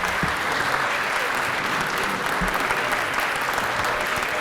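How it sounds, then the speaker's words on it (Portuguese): Warm, sustained applause from a room of business people at a LIDE Rio de Janeiro business luncheon, dense steady clapping throughout, close and full, with faint voices mixed underneath. "pedir uma calorosa salva de palmas"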